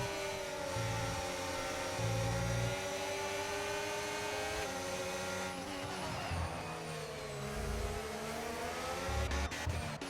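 F1 25 race cars lapping the Hungary circuit in the video game, high-pitched engines whining and shifting up and down continuously with rising and falling pitch, fairly loud and steady, no voices.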